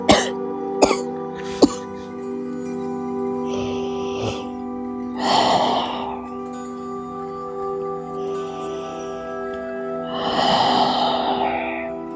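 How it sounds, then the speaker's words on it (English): Allergy sniffles and breathy snorts come in a few short bursts during a yoga session, set over a steady droning musical background with a couple of sharp clicks early on. "I'm sorry if you hear a bit of sniffling."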